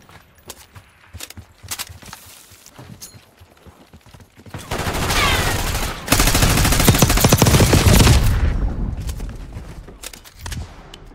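Bursts of automatic gunfire from the Black Ops 6 video game, with scattered shots early and then a loud, dense sustained barrage that fades into sporadic single shots.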